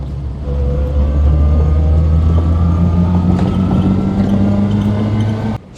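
A Reliant Fox car accelerating downhill: a steady, loud low engine drone with rising harmonics holds throughout, close and continuous, cutting off abruptly at the end.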